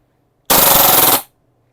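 A Lancer Tactical Cthulhu airsoft electric rifle fires a single loud full-auto burst of about three-quarters of a second, rapid even cracks running together, then stops abruptly into silence.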